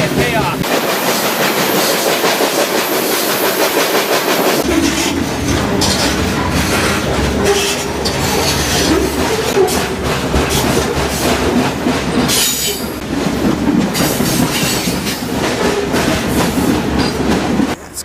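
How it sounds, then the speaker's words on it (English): Moving freight train heading south into North Carolina, heard from on board as a loud continuous rumble with rhythmic clickety-clack of the cars and occasional wheel squeal throughout. "I gambled on this train."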